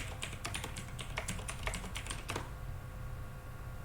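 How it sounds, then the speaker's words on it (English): Password typed on a computer keyboard, a quick burst of crisp, close key clicks for about two and a half seconds, then only quiet room hiss. "So I'm going to type in my password."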